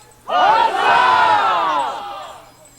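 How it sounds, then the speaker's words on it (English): A crowd roaring a loud, unified hooray cheer for the queen, starting abruptly and swelling as many voices shout together before fading out. "For our glorious queen this day, a greater cheer, I say, hip, hip"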